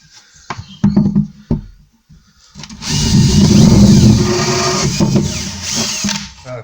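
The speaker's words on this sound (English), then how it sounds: "And then I'll drill it from this side." A power drill bores a hole for a pipe through a kitchen unit, with a few short bursts and clicks first, then a loud sustained whirring run of about three seconds that tapers off.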